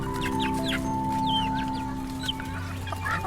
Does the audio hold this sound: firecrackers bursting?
no